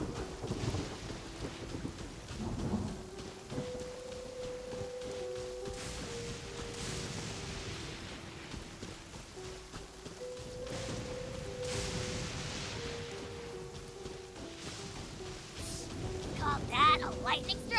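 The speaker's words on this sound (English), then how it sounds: "Call that a lightning strike?" Video-game thunderstorm with steady rain and rumbling thunder after a lightning strike, heard as continuous moderate hiss and roll, while a low synth tone plays underneath.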